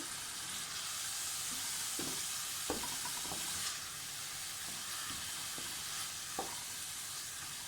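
Moong dal sizzles steadily as it is stirred and fried in a pan, with a constant hiss and scattered light scraping taps from the spoon, and no voices.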